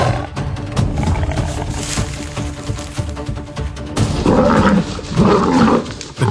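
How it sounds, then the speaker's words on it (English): Deep, rumbling lion roars from the African savannah, with a rough growling stretch followed by two or three loud, throaty bursts toward the end, heavy and close. "Then Scarface's roar exploded like thunder across the plains."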